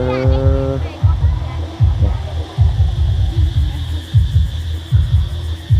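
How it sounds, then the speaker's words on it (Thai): Tractor engine idling nearby at a home building site, its rhythmic throbbing chug pulsing steadily for several seconds, with a brief voice at the start. "รถไถ"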